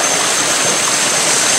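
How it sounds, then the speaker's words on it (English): A small trickling waterfall in a Malaysian park gives a steady, loud, broadband rush of falling water with no other sounds. "Little trickle. A trickle falls."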